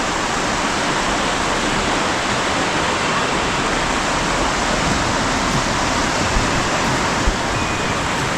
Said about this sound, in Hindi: ये है रामगंगा नदी।